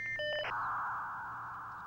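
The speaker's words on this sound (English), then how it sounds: "After a moment, I'll hear the phone's dial tone, then the sound of the two computers connecting." Old home computer dialing in to MSN over a phone line: a few quick dial-tone beeps, then a steady high modem tone that slowly fades, faint and alone.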